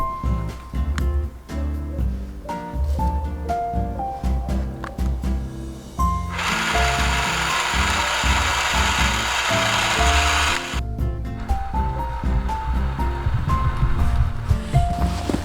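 Motors of a Meade LX85 equatorial telescope mount slew toward a star during alignment, giving a steady mechanical whirring with gear-like ratcheting. A louder, hissing stretch runs through the middle before the motor noise settles back.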